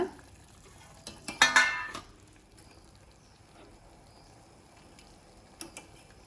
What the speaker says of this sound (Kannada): ಇದನ್ನು ತೆಗೆದು ಒಂದು ತಟ್ಟೆಗೆ ಹಾಕ್ಕೊಳ್ತೇನೆ